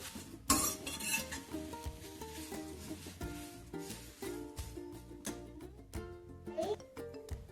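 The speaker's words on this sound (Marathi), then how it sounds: "पोह्यांना कमी गॅस करूनच भाजूया" Thin poha roasts in a small kadhai over a low flame, with repeated metal spoon scrapes and clinks against the pan in an uneven rhythm, close and fairly quiet, while a voice talks faintly at moments.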